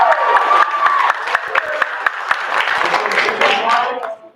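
A small audience at a noontime school show applauds and cheers, with dense clapping mixed with children's excited shouts and voices, loud and close, fading out at the end.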